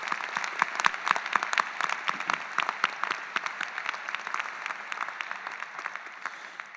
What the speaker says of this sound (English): So a round of applause for the staff at the University of Pittsburgh